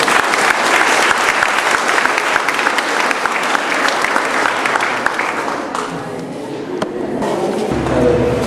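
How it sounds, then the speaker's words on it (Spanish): Wedding guests applaud at a church ceremony right after the couple's kiss, giving a loud, dense burst of clapping that fills the room and then thins out toward the end. "Demos un fuerte aplauso,"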